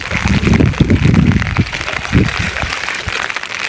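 Morning rain falls steadily during village fishing with a current net, a dense close patter mixed with splashy handling thumps and faint voices in the background.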